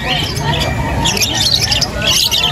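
Pet birds squawk and screech in a busy pet market in Angeles City, with harsh calls overlapping throughout against a steady hubbub of people talking nearby.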